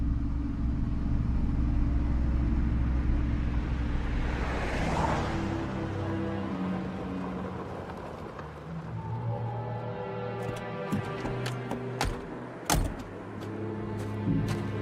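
Car driving in the video game Condemned: Criminal Origins, a steady low engine drone and road rumble that fades and shifts, followed by a few sharp mechanical clunks and knocks near the end.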